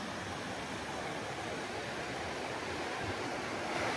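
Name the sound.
running water near campsite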